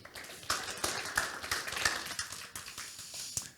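A conference audience gives scattered applause for a speaker, with sparse, distinct claps that sound faint and distant and come in uneven bursts before thinning out.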